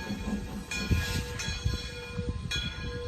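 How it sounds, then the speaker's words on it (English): Shay steam locomotive No. 1 of the Roaring Camp Railroad coming back in the distance with the Bear Mountain train: a steady low rumble of rolling rail cars with faint whistle-like tones, moderately distant, no talk. "there's number one, as you could probably see in the distance. Coming back with the Bear Mountain train."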